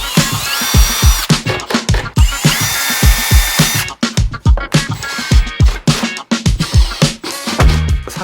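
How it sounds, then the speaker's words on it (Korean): Power drill driving screws into a plywood sled-shaped tabletop, repeated loud bursts of motor whine rising and stopping in quick succession, close and dominant throughout. "나사를 이용해서 튼튼하게 고정을 해줄게요"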